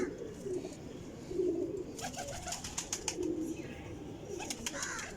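Soft, low cooing of a golden Salara pigeon, a flying breed, repeated a few times close by, with faint clicks and rustling around it.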